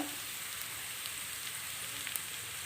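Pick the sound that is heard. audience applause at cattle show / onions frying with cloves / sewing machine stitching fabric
onions frying with cloves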